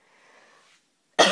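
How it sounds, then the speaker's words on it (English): A single sharp, loud cough at the very end, after a faint breathy rasp. "Sorry that I'm coughing a lot"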